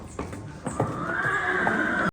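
A mare neighs in a long, rising whinny, close and loud, with a few hoof clops and shuffles around it at a horse fair.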